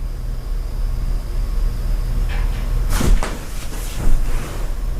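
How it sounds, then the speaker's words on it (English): An indoor door unlatches with a brief click and clunk around the midpoint, followed by a second faint knock, set against a steady low background hum in a quiet house. "Was that like a door unlatching?"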